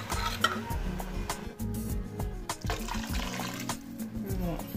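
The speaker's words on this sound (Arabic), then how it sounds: "توا نزيدوا لها الماء، نمرقوها بالماء" Water poured into sizzling bolognese sauce for lasagne while it is stirred in the pan: a steady bubbling hiss with scraping and clattering stirring strokes throughout, moderately loud and close, no talk heard.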